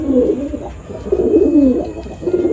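Gola Madrasi pigeons coo in a low, throaty, rolling murmur, the cooing continuous and fairly close with slight rises and falls, over a faint steady background hum.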